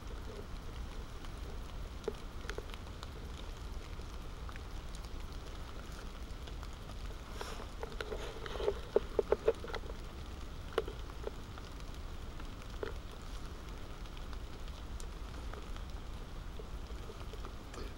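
Steady rain falls over a forest bushcraft camp in November, a constant wash of drops with a few louder taps and drips on nearby surfaces partway through, and no voices.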